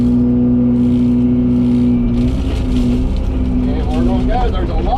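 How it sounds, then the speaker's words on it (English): A roadside mowing head on a machine clearing saplings and underbrush holds a steady droning hum, then its pitch rises and wavers as it spools back up, loud and close. "We'll let that head spool back up"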